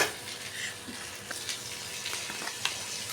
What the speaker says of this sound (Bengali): যে তেলটা ছিল মাছ ভাজার ওই তেলের মধ্যেই আমি এটা ফোড়নে দিয়ে দিলাম কাঁচা লঙ্কাটা আর গোটা জিরেটা